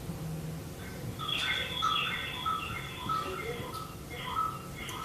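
Small birds chirp and tweet in the background of a council meeting call, a scatter of short high calls running over a steady hum of room noise with faint murmured talk.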